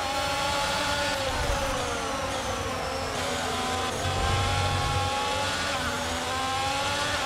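Race car engine in a racing video game, a continuous high-revving drone with shifting pitch as the car accelerates and slides, loud and unbroken throughout.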